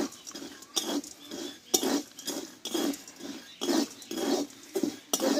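Chickpeas are dry-roasted in salt in a pan without oil or sand, giving close, rhythmic bursts of gritty rattling and scraping as they are stirred, each swirl followed by a short pause, with no talking.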